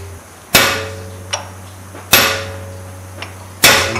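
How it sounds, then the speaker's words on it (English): Hammer striking a hot chisel to cut a groove down the center of a steel blank for V-bit tongs, three loud ringing blows spaced evenly apart, each followed by a faint lighter tap. "chisel a little groove right down the center"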